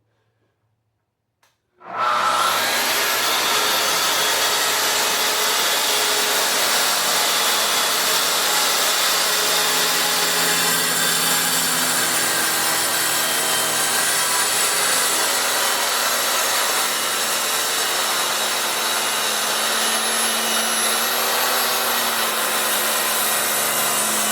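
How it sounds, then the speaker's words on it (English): A track saw cuts at full depth through a sheet, starting abruptly and then holding a loud, steady motor whine and blade rasp for over twenty seconds, close and uninterrupted. "So we'll run the track saw on here. You got to make this cut at full depth too."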